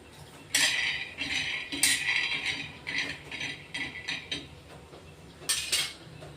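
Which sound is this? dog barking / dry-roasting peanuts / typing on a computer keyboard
dry-roasting peanuts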